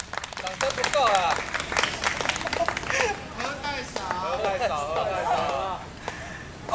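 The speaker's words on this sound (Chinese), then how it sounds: "掌声不够啦，再一次，再一次，再一次，掌声不够啦" An audience at a campus singing performance claps and cheers in a lively burst, while a singer's voice runs over the applause.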